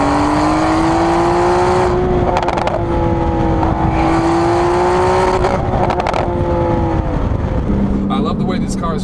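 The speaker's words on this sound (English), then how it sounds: "you make up for in other spooling and popping noises that the turbo adds to it" Tuned Porsche 911 991.2 Carrera 4S with a twin-turbo flat-six revving hard and held at a steady high pitch, loud and close, with spooling whistle and a drop near the end into crackling pops.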